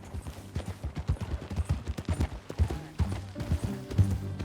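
Horse hooves clip-clop at a steady riding gait in the video game Red Dead Redemption 2, a close, rhythmic series of thuds with some game ambience.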